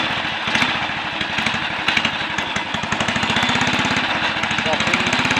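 A Royal Enfield 250 Clipper pre-unit motorcycle engine runs in gear with a loud, rapid single-cylinder thumping that holds a steady, even rhythm and rises slightly in pace, close up.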